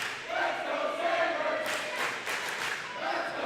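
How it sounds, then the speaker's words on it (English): A boisterous crowd at a high school girls' basketball finals game, a sustained wash of cheering and shouting in a gym with a few louder surges, heard from a distance. "What a boisterous crowd here tonight"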